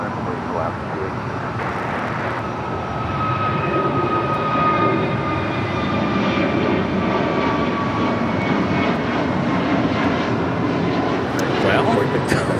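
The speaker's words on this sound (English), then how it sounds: "that was American Airlines on 2646 heading to Philadelphia in this A321 Neo" An American Airlines Airbus A321neo jet roars steadily on takeoff at Los Angeles International Airport, a broad, sustained engine rumble that swells slightly as it climbs, with no voices heard.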